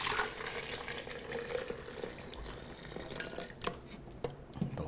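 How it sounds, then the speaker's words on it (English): Hot apple cider with cinnamon sticks pours through a nut milk bag, a soft continuous trickle and splash of liquid, fairly quiet and close, with a few brief clinks near the end. "we're going to pour it into a sieve, or this is a almond milk or nut milk bag"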